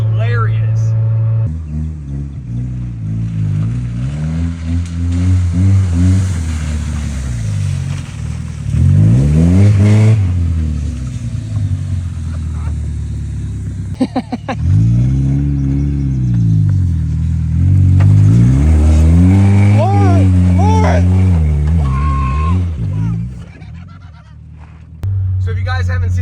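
A lifted Mazda NA Miata's engine revs repeatedly while driving, loud rising and falling sweeps of pitch from the cabin as it accelerates through gears, with a rough idle between pulls.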